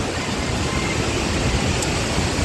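Strong wind and crashing ocean waves at a littered shoreline make a constant, loud roar of broadband noise that fills the whole stretch with no voices.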